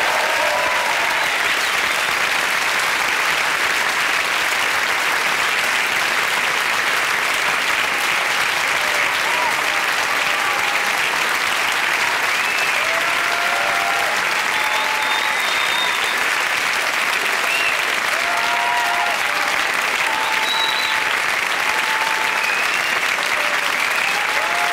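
Sustained, dense applause from a large stand-up comedy audience at the Apollo, loud and even throughout with scattered whoops and cheers rising above the clapping.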